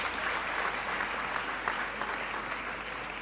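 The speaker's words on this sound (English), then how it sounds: "Shall we give him another round of applause, please?" Audience applause at a university congregation ceremony in a great hall, a broad, even wash of many hands clapping that holds steady from start to finish.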